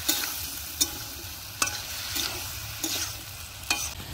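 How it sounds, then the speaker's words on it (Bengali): Spice mix for a taro and river fish curry being stirred and fried in a pan, with a steady low sizzle and a few sharp scraping knocks of the spoon spaced through the stretch. "দেখেন বন্ধুরা আমি কত সুন্দর করে কষায় নিছি"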